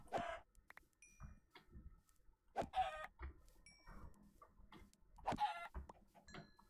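Minecraft chickens cluck in three short bursts spaced a few seconds apart, fairly quiet and close, with soft game ambience between them.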